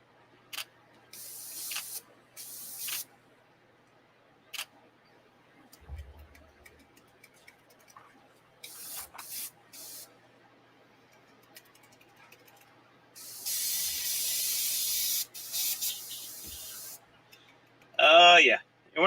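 Tamiya airbrush spraying in short, separate bursts of hiss, one long spray near the end, between quiet gaps with faint talking underneath.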